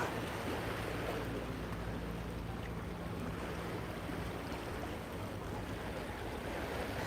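Waves at a beach in Port de Soller, Mallorca, a steady wash of surf mixed with gusty wind noise on the microphone, constant and fairly faint with no talking.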